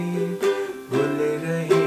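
A ukulele strums the chorus pattern of a Hindi song from Dil Chahta Hai, quick rhythmic strokes on bright chords changing about every half second, close and moderately loud with no voice.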